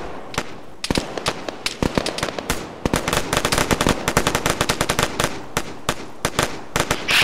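Sustained automatic gunfire from an Arma 3 firefight rings out in dense rapid bursts and single cracks, loud and close, continuing almost without pause throughout.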